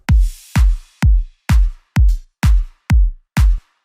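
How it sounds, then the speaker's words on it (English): Eight punchy drum hits in a steady, evenly spaced pattern, each a deep thump with a bright crack on top, loud and dry with no other sounds. "I actually took some drums with old project of mine which sound like this"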